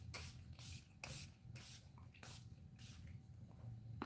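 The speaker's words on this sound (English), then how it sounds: "I'm going to spray the shit out of myself." Rhythmic hissing bursts from a pump bottle of Victoria's Secret body spray, about eight close sprays in steady succession, quiet and without talk.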